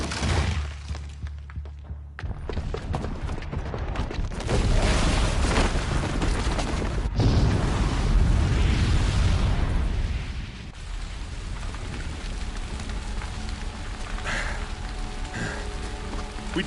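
A bomb blast from a booby trap in the video game Horizon Zero Dawn, heard as a long rumbling, crackling roar with heavy low thuds and debris that swells, then trails off into a steady noisy wash.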